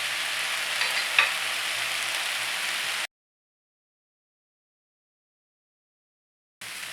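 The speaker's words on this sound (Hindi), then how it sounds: "ये देखिए अब ये भुनने लगा है" Mutton keema frying in a pan with roasted fennel, crushed cumin and coriander, a steady bright sizzle that cuts to silence and then resumes briefly at the end.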